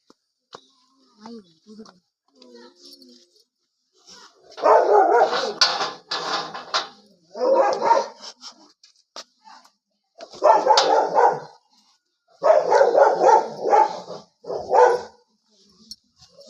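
A dog barks and yips in several short bursts, fairly close and loud, with quiet gaps between them, and a few soft voices heard faintly.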